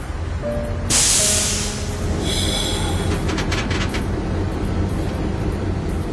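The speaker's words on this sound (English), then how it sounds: "Holland's brakeman Everett Crown notices that the train is picking up speed" A loud burst of hissing air over a low rumbling, rolling noise of a freight train picking up speed on tracks, with a faint tone fading early.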